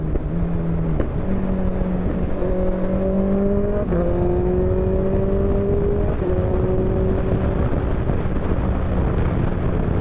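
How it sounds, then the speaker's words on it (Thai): A Honda CBR650F motorcycle engine idles steadily to warm up, a continuous close hum with shifting tonal pitch and no talk over it. "ให้เครื่องมันร้อน ให้รถมันร้อนสักนิดหนึ่ง"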